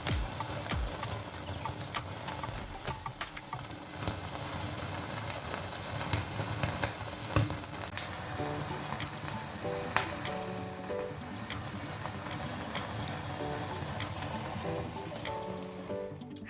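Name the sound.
chicken tandoori legs sizzling while grilling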